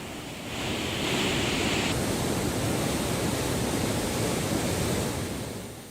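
Water rushes steadily through two open barrage gates on the Chambal river dam during monsoon flooding, a loud, continuous broadband roar with no break and no voices.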